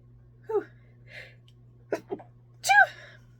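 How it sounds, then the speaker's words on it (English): A person sneezes several times in quick succession, with small gasping inhales and a final loud, sharp sneeze near the end, heard close up against a quiet room hum. "that's how I sneeze"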